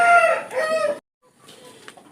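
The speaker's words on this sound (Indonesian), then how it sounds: "Kita nikmatin kokok panjang Jepang dulu ya" A Japanese long-crowing Tomaru rooster lets out a loud, close, drawn-out crow that ends abruptly after a second, followed after a brief silence by a fainter, more distant crowing from another bird.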